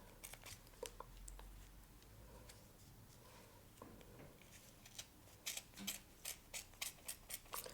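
Scissors snip through yarn while making a pom-pom, giving a quiet series of crisp cuts that quicken into a rapid rhythmic run near the end, with soft rustling of the yarn in between.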